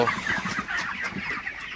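Broiler chickens in a shed after a night of storm winds and rain cluck and chatter in short, overlapping bursts, close and moderately loud, with no one talking.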